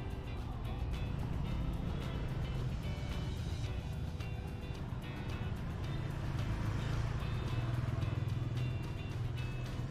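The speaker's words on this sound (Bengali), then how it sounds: "হ্যানয়তেও দেখি প্রচুর বাইক। এখানে মানুষ বাইক ছাড়া চলতেই পারে না" Motorbikes fill a busy Hanoi street with a dense, continuous rumble of engines, a close and loud wash of traffic noise that barely changes from start to end.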